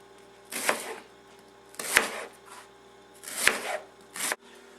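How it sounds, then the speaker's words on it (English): Four separate bursts of crisp cutting noise, each a quick flurry of knife strokes chopping an onion on a board, with quiet pauses between them. "now we need to chop an onion"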